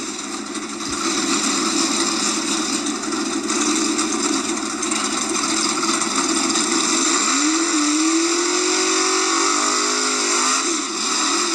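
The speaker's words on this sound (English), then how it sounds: "Good looking little S10. Going against the big tire Trans Am." Drag racing engines of a Chevrolet S10 and a big-tire Trans Am at the strip, a loud sustained droning rumble with a rising rev swell midway, heard from a distance outdoors.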